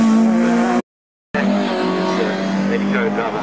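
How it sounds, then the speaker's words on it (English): A Porsche rally car's engine howls loudly and close, with a steady high-revving tone and a brief cut before it returns. A voice speaks under the engine. "passing that glorious sounding Porsche there"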